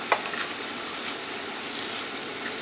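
Yams in thick juice being stirred in a pot: a soft, steady wet swishing and bubbling texture with one brief clink of the spoon near the start, close and fairly quiet, with no talking.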